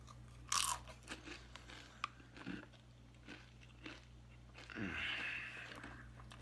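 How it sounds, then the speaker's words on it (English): Doritos nacho cheese chips crunched and chewed close to the mic, with a sharp bite near the start, scattered smaller crunches, and a louder chewing burst near the end, with no talking. "so tantalizingly cheesy good about Doritos nacho cheese chips. So fucking good. The crunch."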